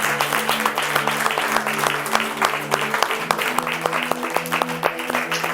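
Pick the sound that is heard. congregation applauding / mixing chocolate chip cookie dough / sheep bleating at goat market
congregation applauding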